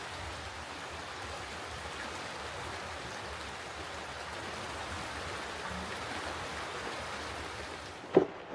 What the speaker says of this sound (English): this is a very unexpected shower